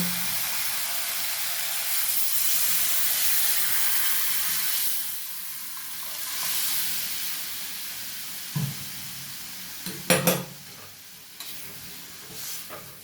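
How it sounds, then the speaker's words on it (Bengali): Lentils poured into a wok holding katla fish head already cooked down with spices, giving a soft continuous sizzle and hiss, then a few sharp utensil clinks toward the end. "এবারে ডালটা আমি কড়াইতে দিয়ে দেব।"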